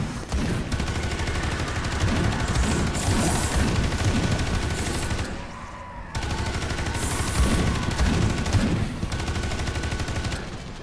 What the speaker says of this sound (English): We got a lot of guys shooting at us.